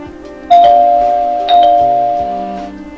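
Doorbell chime rings twice, each bright two-tone ding sustaining and decaying, a sound effect within a spoken horror radio story, heard alone without talk.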